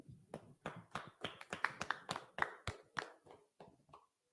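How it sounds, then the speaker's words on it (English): Hands clapping at a class gathering, a series of sharp, close, individual claps in an uneven rhythm with brief gaps between them, no talking. "Let's clap it up."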